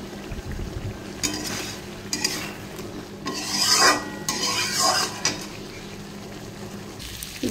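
Spice paste being stirred and fried in a pan for a Bengali home-cooked lunch, with repeated scraping, rasping strokes of a spoon against the pan over a low sizzle, loudest in a few bursts midway.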